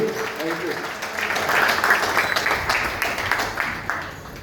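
A standing audience at a company network-marketing event claps steadily, the applause moderately loud and continuous, with some voices mixed in beneath it.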